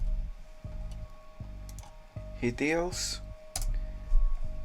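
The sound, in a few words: typing on a computer keyboard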